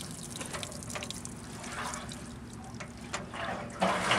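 Dirty fuel sloshing and draining out of a long-unused generator's tank through the opened petcock, a close trickling, splashing flow with small irregular splashes and a louder gush at the end.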